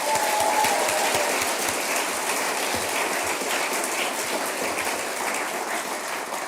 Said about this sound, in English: let me have a big round of applause for the family